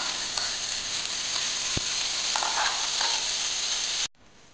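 Tomatoes frying in a spoonful of hot oil in a pan give a steady, close sizzle with light crackles and a brief stir, cutting off abruptly near the end.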